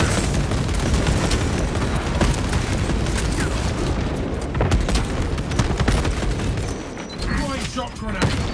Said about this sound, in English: Releasing frag grenade!